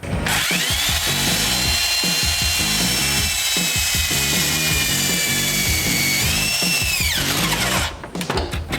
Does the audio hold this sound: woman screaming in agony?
no